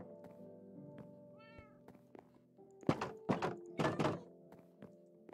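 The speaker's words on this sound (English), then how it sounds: "Has that cat grown up already?" A cat in the Minecraft video game gives a short meow, followed by several loud, hollow thunks spaced about a second apart, over quiet background music.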